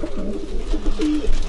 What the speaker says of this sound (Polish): Powiedz Darek, jaka jest rywalizacja, jeśli chodzi o gołębie młode?